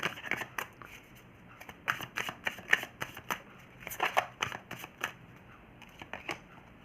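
Tarot cards are shuffled and drawn in a fast, irregular run of crisp riffling snaps and flicks, close and fairly quiet, with occasional faint voice in the background.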